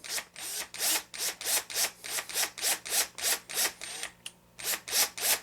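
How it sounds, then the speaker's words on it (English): Screws driven into the chassis of an HPI Baja SS RC car, a close rhythmic run of about fourteen short ratcheting strokes with one brief pause, no talk. "turn your chassis over so that you have access to these nuts or to these screws. Go ahead and start them in."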